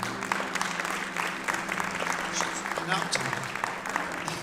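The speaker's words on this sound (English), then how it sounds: "I think we should give him a big round of applause" Audience applause at a business conference for Tom Cakebread, a dense, sustained patter of clapping from the crowd with someone speaking briefly over it.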